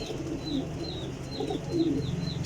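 Pigeons coo in a repeated rhythmic series of soft, low, throaty calls, close and clear over a faint background hum.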